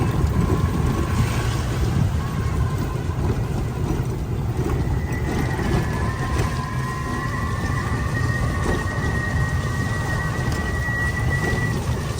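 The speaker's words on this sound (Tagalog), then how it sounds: "So no choice, susugod po tayo sa ulan" Steady heavy rain pours down in Malabon, a dense continuous hiss with low rumbling underneath and a faint engine-like drone, no voices.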